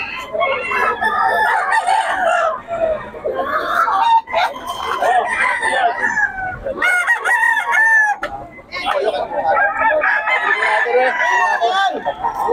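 Several roosters crow repeatedly, overlapping one another at close range, with clucking chickens and some voices in the background, at a busy chicken market in Bocaue.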